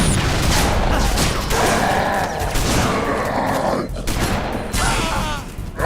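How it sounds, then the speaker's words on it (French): Shotgun blasts in the video game Halo Reach, sharp bursts ringing out among dense game noise, grunts and clatter, with a loud continuous soundscape throughout. "Le fusil à pompe."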